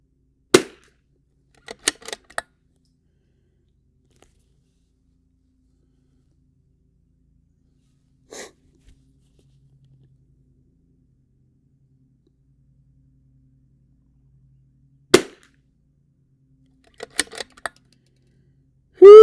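Pistol shots from a RimX pistol fitted with a 17-round extended magazine, fired as sharp, loud bangs: a quick cluster near the start, a lone shot mid-way, then another rapid burst near the end with quiet gaps between.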